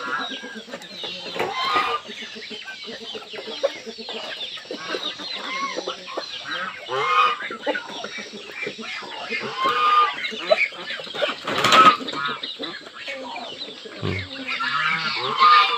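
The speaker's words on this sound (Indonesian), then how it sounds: "Ayam Bangkok." Ayam Bangkok fighting-breed chickens on a small farm cluck and squawk continuously, a busy flock heard up close with overlapping calls and occasional louder crows or squeals throughout.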